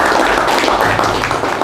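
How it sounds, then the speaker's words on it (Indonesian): A classroom of students gives a short round of applause for a classmate, dense clapping that fills the room for under two seconds. "Tepuk tangan dulu untuk teman kalian."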